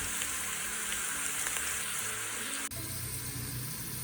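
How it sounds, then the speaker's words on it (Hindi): Onions fry to light brown in a pan with a steady, soft sizzle and crackle, continuous and even, with a brief click partway through and no talking. "तो प्याज को लाइट ब्राउन करते हैं। प्याज हमारा लाइट ब्राउन हो रहा है।"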